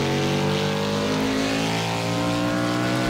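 A Caper Monterey stock car engine in Project Cars held hard against the rev limiter in top gear, a loud, steady, buzzing high-rpm drone that stays constant throughout with no pauses.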